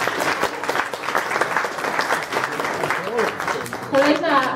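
Audience applause at an award nominee presentation for the Kryształowy Świecznik prize, steady close clapping from a crowd lasting the whole stretch, with a voice rising under it near the end.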